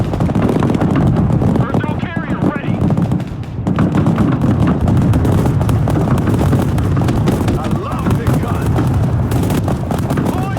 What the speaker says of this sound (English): The sounds of the missiles whooshing by, or the explosions, the gunshots sound heavy and realistic